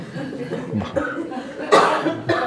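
A few short, rough coughs burst out close by, with brief pauses between them.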